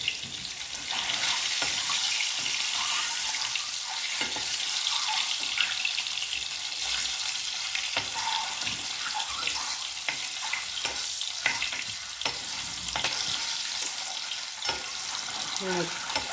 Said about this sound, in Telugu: చక్కగా వేయించుకుందాం చుట్టూట్లా.